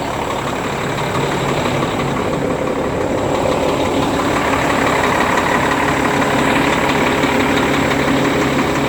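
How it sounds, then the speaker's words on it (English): A heavy truck engine idles steadily after a cold morning start, with a constant low rumble and rattle, loud and close, with no talking. "Just started the truck up this morning."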